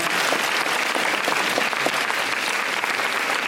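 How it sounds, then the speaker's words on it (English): Dense, steady applause from a seated audience at a campus talk, many hands clapping continuously and close at full strength throughout, with no voices over it. "I think it's time to give Manu a clap,"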